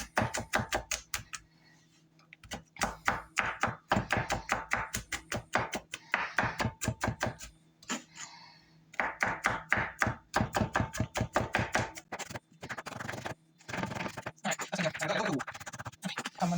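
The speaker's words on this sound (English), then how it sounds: "So I'm just gonna run the knife through this a little bit" A knife chops garlic on a cutting board in quick rhythmic taps, coming in rapid runs separated by brief pauses, close and crisp.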